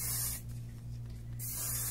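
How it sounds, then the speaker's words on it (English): Heat protection hair spray hisses from an aerosol can in two short, steady bursts, close and fairly quiet, separated by a brief gap. "So I'm going to spray it all over"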